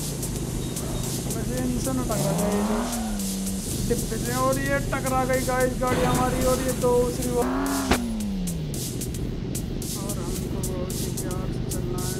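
A car in the Impossible Car Stunt 3D video game drives with a continuous engine drone and rising revs, while tires squeal in sweeping pitches over a steady music-like bed.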